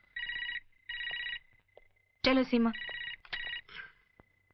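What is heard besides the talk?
telephone ringing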